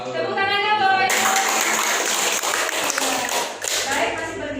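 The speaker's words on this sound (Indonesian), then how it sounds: "Tepuk tangannya Bapak Ibu." Audience applause at a school parents' meeting announcing top students, loud, dense clapping filling the whole stretch, with voices and speech running underneath.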